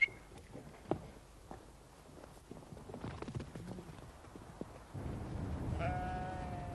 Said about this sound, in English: the moors are grazed by blackface and Swaledale sheep from a tenant farm nearby.